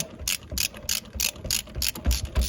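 A ratchet tightens bolts on a 2003 Honda Foreman four-wheeler during an oil change, giving loud, close, rhythmic clicking bursts in quick repeated strokes with no talking.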